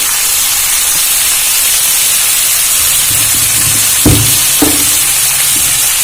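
A fish jhol with salt and turmeric sizzles loudly in a pan, a strong continuous steamy hiss with a few low knocks and clanks of a utensil near the end, no speech.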